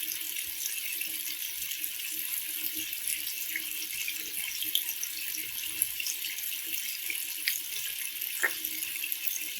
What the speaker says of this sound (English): you can go ahead and turn on the faucet. And you should see that your water will be flowing much faster down the drain.